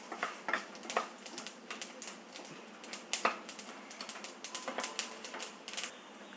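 Mustard seeds spluttering in hot oil in a pan that also holds brinjal, a rapid irregular run of sharp little pops and crackles, some louder than others, heard alone without speech.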